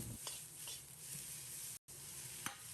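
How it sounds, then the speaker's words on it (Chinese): Tomato, onion and green chili peppers stir-fry in a wok over high heat, giving a soft steady sizzle with occasional light spatula scrapes. "开大火在锅中煸炒1分钟，把尖椒、洋葱炒至断生"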